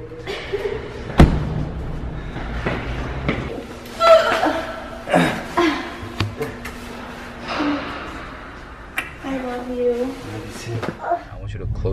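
A Mercedes car door opens and shuts with a solid slam and thuds, heard amid excited voices, laughter and chuckling from people standing close by.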